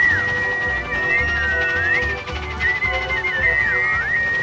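A loud, melodic whistle warbles up and down in pitch over a soft, rhythmic low background, sounding like people whistling a tune together, with no speech.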